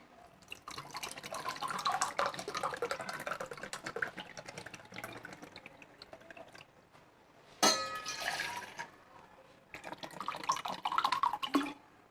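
Water pours into a glass for a homemade detox drink, close and gentle, in several bursts of trickling and splashing with short pauses between.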